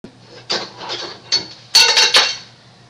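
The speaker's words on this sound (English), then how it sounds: "I'm going to mix it together until I end up getting the color that I like." A spoon mixing homemade playdough colours, green and yellow, in a bowl. Irregular scraping and clacking strokes come close and fairly loud, bunching into a quicker burst near the end, with no voices.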